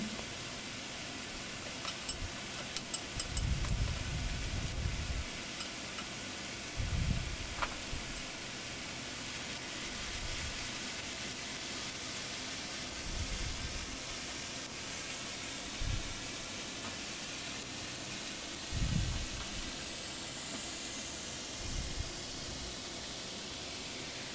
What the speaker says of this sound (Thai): นำพริกและกระเทียมที่เราเตรียมไว้ใส่ลงไปผัดให้หอม